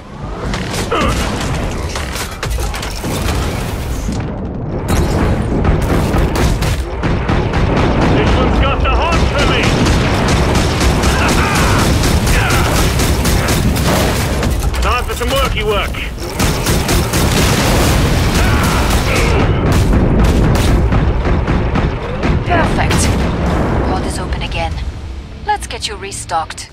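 Explosions and heavy gunfire in the video game Killing Floor 2, loud booming blasts and chattering shots piling up almost without pause, with a voice talking through the din.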